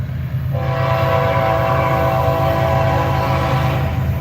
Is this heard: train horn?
yes